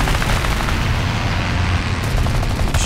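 Machine guns of an A5M4 fighter plane firing in War Thunder, a loud continuous burst of rapid gunfire over engine roar, holding steady for nearly three seconds.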